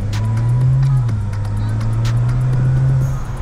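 BMW 435i with an N55 engine in stage 2 tune accelerates hard, a loud steady engine drone holding strong throughout with a brief pitch dip mid-pull, heard from inside the car.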